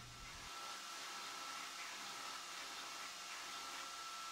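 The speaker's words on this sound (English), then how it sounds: "Here I'm using the surface grinding attachment of my Ameribraid grinder, extremely useful gizmo." An Ameribraid belt grinder with a surface grinding attachment works on 154CM knife steel, giving a faint, steady whooshing whir that holds level for several seconds with no breaks.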